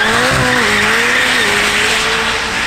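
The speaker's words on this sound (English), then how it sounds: "they also have their cars going up and down the hill" Cars racing up the hill climb at the Goodwood Festival of Speed 2018, loud engines with rising and falling revs and tire squeal, continuous and close, filling the whole stretch.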